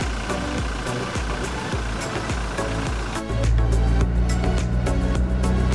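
A Toyota Fortuner VRZ diesel engine idles with a steady low rumble and regular clatter, growing slightly louder and deeper partway through.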